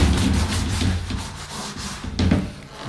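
A stiff bristle brush scrubs a dirty shower surface in rapid, coarse back-and-forth strokes, close and loud, with a harsh gritty rasp and a sharper burst near the end.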